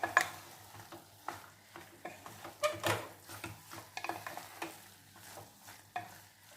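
A bottle gourd, sorrel leaf and chana dal curry being stirred in a pan: soft scraping and clinking strokes of a spoon in an irregular rhythm, close and quiet, under a faint sizzle.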